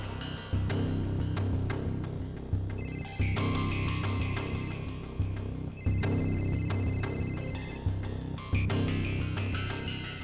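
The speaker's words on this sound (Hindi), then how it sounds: "और ये जो बेल बज रही है," A phone rings in a police investigation scene, sounding as repeated electronic tone bursts in rhythmic cycles over a low, droning dramatic background.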